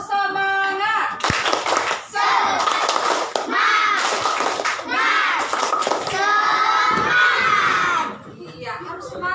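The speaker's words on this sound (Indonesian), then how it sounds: "Semangat, tepuk semangat." Children's rhythmic clapping chant, the tepuk semangat: bursts of group hand claps alternate with shouted young voices in a steady patterned rhythm, loud and close, ending with a short softer tail.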